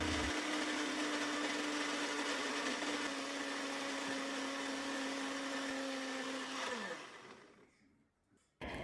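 A mixer grinder whirs loudly and steadily for several seconds grinding onions into paste, then winds down and stops, leaving near silence before a brief noise returns.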